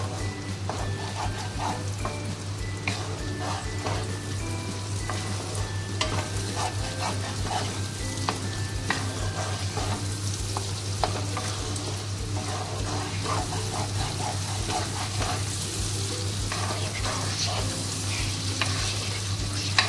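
Chopped green chilies and tomato masala sautéing in a pan over a raised gas flame, a continuous sizzle with frequent stirring scrapes and clinks, close and steady throughout.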